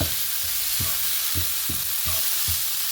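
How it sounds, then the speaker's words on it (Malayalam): Marinated chicken sizzles in a hot pan of masala for kadai chicken, a constant bright frying hiss with repeated stirring knocks about every half second, close and fairly loud. "മാരിനേറ്റ് ചെയ്ത് വെച്ച് ചിക്കൻ ആഡ് ചെയ്ത് കൊടുക്കുകയാണ്."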